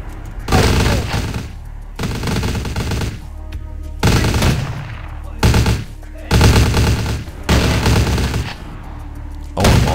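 Repeated bursts of gunfire in the video game Vampire Bloodlines, six loud close volleys about a second long with short gaps between them, and no talk over the shots.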